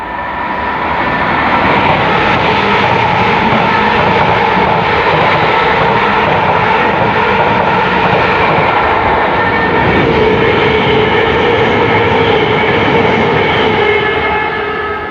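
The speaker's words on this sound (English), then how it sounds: "we're about to have a train swiping through for London" A Class 720 electric train sweeps through Northumberland Park station without stopping, a loud, continuous roar with a steady whine that fills the whole stretch.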